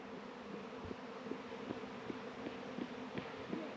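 A steady, dense insect drone of a bee swarm buzzing together outdoors in a New York state park, continuous and moderately loud with faint occasional ticks.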